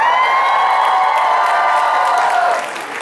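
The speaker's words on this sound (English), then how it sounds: "You may be cheering prematurely here." A convention audience at a closing ceremony roars with loud sustained cheering, whoops and shouts blending into one wall of voices that eases off near the end.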